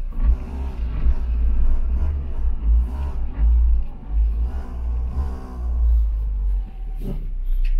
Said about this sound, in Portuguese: Vamos parar o carro aqui um tiquinho para dar uma analisada nesse sinal